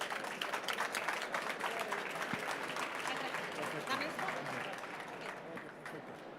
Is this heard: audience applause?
yes